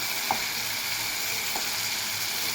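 Tomatoes sautéing in a pan for tomato chutney give a steady, close sizzle throughout, with two soft stirring scrapes breaking through about a second apart.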